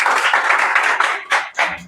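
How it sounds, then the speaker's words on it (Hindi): Students clapping in a classroom, a short loud burst of many hands with a few sharper separate claps toward the end. "तालियां हो जाए यार"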